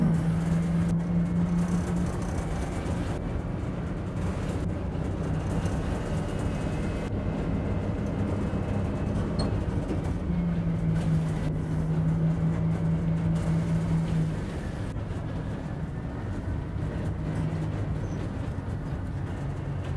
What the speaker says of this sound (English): Now go ahead and upshift to fourth.